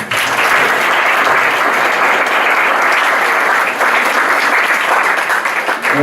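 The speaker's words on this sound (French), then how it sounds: "On peut les applaudir." An audience claps steadily and loudly for about six seconds at a youth club party, a dense sustained round of applause without speech.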